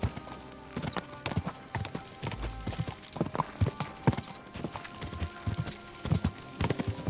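In the medieval game Kingdom Come Deliverance 2, a horse's hooves clip-clop at an uneven walking pace, sharp knocks close by over faint ambient background.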